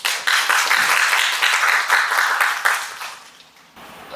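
Audience claps to welcome a youth representative at a youth forum on sustainable development and plastic pollution; brisk, moderately loud clapping that fades toward the end.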